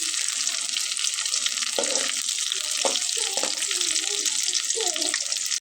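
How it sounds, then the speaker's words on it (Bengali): Stuffed eggplant fries in oil with a loud, continuous sizzle up close, broken by a few soft knocks and scraping stirs. "তারপরে আস্তে আস্তে নিচের দিকে ঠিক এভাবে দিয়ে ভেজে নিতে হবে"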